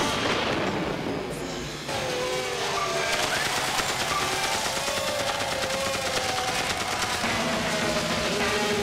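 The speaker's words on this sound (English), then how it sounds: "the Death Strike is my favorite weapon in all of gaming" The Death Strike weapon in the futuristic racing game XGRA fires and detonates amid roaring race engines, producing rapid gunfire-like bursts and booming blasts over a dense, continuous whine of speeding vehicles.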